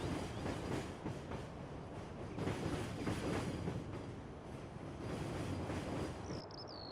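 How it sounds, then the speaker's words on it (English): An animated decorative train rolls across a farm map in Farming Simulator 19, a steady mid-distance rumble with rhythmic clatter of wheels on rails, ending in a brief high squeal near the close. "This is just an animated deco train that runs east and west across the map."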